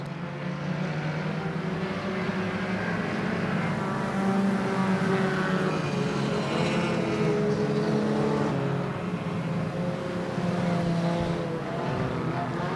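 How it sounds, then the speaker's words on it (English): Hornet-class race cars circle a short track together, a steady, dense engine roar holding at constant loudness throughout with shifting tonal whines as cars pass. "Eric Ashley makes the pass of Dad halfway through this race"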